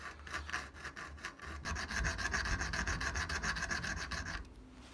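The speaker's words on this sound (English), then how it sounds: "With two of them, I carefully file a slot right down the middle." Hand file working a slot into a small brass camera part for a film spool, a steady close rasping of repeated back-and-forth strokes running throughout, with no talking.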